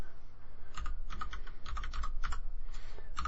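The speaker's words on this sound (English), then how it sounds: "I'm typing with a sore hand" Keys clack on a computer keyboard in slow, uneven bursts, typed by a sore hand, close by with no talking over the steady room hum.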